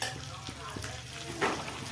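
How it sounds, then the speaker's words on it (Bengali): Cashews and raisins frying in oil in a pan, a close crackling sizzle with occasional stirring clinks and a short louder burst, steady throughout with no speech. "এই কাজু কিশমিশটা ভাজা হয়ে গেলে আমি এখন মাংসটা ভাজতে বসবো।"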